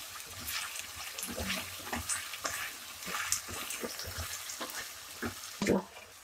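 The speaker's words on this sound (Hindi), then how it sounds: "इसमें डाल देंगे हम आलू, और इसमें डाल देंगे हम मशरूम, और इनको हम तेज हीट के ऊपर फ्राई कर लेंगे 1 मिनट तक" Potatoes and mushrooms fry over high heat in a pan, a steady sizzle broken by repeated stirring scrapes and knocks, close and fairly loud, with a voice speaking briefly now and then.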